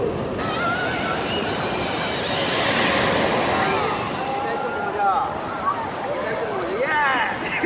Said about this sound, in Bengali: এখানে এতটাই ঢেউ দিচ্ছে।